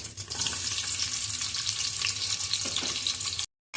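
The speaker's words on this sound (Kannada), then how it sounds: "ಉಳ್ಳಾಗಡ್ಡಿ ಚೆನ್ನಾಗಿ ಗೋಲ್ಡನ್ ಬ್ರೌನ್ ಆಗೋ ತನಕ ಹಾಕ್ಕೋಬೇಕ್ರಿ." Chopped onions sizzle and fry steadily in hot oil in a pan while cooking tomato rice, a continuous close crackling hiss with faint stirring scrapes, cutting off briefly near the end.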